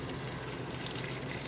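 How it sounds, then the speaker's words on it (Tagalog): Water runs steadily from a tap into a pan for cooking bihon, a soft continuous pour heard close with a couple of faint splashes and no talking. "Lagyan natin ng tubig kasi kailangan natin sa bihon natin."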